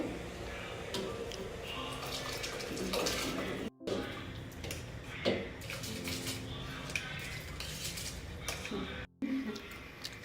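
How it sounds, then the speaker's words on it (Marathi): Soaked long-grain basmati rice is tipped into a pot of boiling water for mutton biryani, giving splashy watery pouring and bubbling with brief pan knocks, under a person talking close by. "आता हा आपण या उकळत्या पाण्यामध्ये ॲड करूया"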